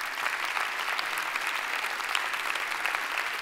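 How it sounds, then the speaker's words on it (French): Audience applause at a 2024 New Year's greetings ceremony, a dense, even patter of many hands clapping together at moderate distance, sustained throughout without voices on top. "on peut l'applaudir"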